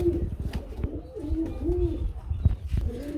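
Fancy pigeons kept for sale coo close by in repeated soft, rolling low calls, with faint background clatter between them.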